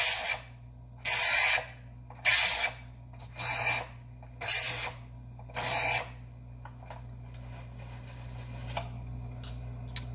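A paring knife is drawn across a sharpener at a fixed angle in six even rasping strokes, followed by quieter ambient noise.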